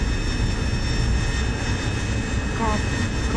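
Jet engine spooled up in the DCS flight simulator game, a steady loud broadband roar with a constant high whine, continuous and close throughout.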